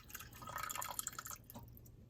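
Beef juice pours from a fat separator in a home kitchen, a thin trickling stream with soft drips and splashes, close and quiet.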